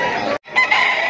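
A rooster crows loudly and close at a busy pet market in Malabon, with a long strained call broken by a brief gap, against crowd noise.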